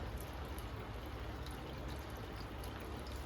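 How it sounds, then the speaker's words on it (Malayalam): Clear tamarind water poured into a pan of pearl spot fish curry, a soft, steady trickle at low volume without a break. "പുളിവെള്ളം കുറച്ച് നമുക്ക് ഒഴിച്ചു കൊടുക്കട്ടെ"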